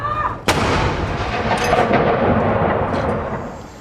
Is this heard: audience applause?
no